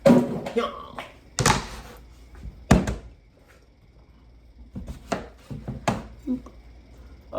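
Knife dicing butternut squash on a cutting board: a few loud, scattered thunks and chops separated by pauses, with softer taps later and a voice in the background.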